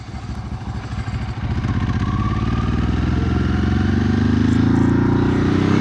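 A Ducati 999S motorcycle engine pulls hard while being ridden, its deep rumbling exhaust climbing steadily in pitch as it accelerates, loud and close with wind noise and no talk.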